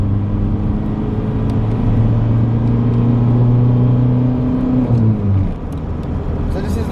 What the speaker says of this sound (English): So this is a very high revving diesel engine